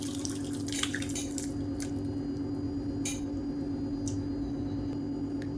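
Horse gram soup trickles and drips through a strainer with occasional soft clinks of utensils against a pot, over a steady low hum, close and fairly quiet.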